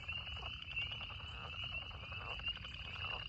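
A dense chorus of frogs croaks and trills continuously at a distance, steady and fairly faint, with no voices.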